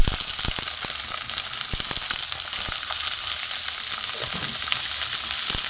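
Beans, carrots and cauliflower frying in a pan for a vegetable dal, a steady close hiss of sizzling with scattered sharp crackles and pops, with no voices.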